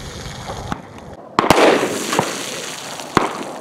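A 10mm Auto gunshot firing a 200 grain XTP bullet at a bottle outdoors, a loud sharp crack with ringing decay and a few fainter pops around it.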